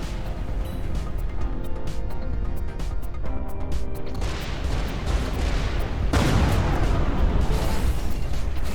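Explosions boom in the Everspace 2 space-combat game, heavy rumbling blasts and crashes layered over loud continuous game noise, with a big burst partway through.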